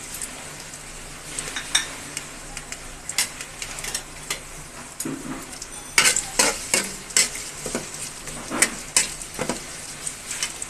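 Onions fry in soybean oil with a steady close sizzle, broken by repeated sharp scrapes and clinks of a utensil stirring against the pan, with no talking.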